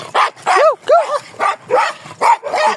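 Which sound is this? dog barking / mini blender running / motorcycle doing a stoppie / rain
dog barking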